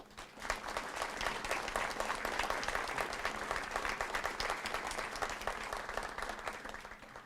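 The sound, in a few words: applause for distinguished guests at change of command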